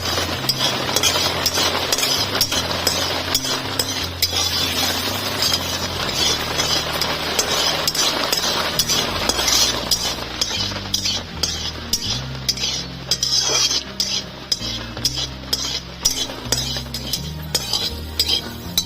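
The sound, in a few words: stirring green chilies and black mustard seeds in hot oil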